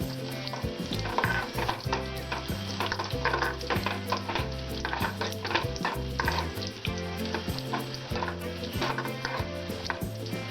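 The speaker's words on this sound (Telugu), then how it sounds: "నేనైతే జీడిపప్పు, ద్రాక్ష తీసుకున్నాను. ఇది తీసుకొని ఫ్రై చేసుకున్నాము." Cashews and raisins fry in a pan on medium flame for poha payasam, giving a loud, continuous sizzle with rhythmic stirring and scraping throughout.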